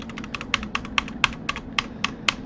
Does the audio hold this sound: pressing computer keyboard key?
yes